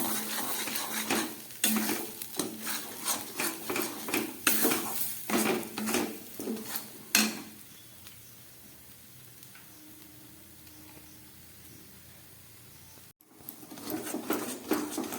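Pea paste is stirred and pressed against a pan with a spatula, making a series of sharp scraping clatters over a soft sizzle, then a quieter stretch of low frying before the scraping resumes.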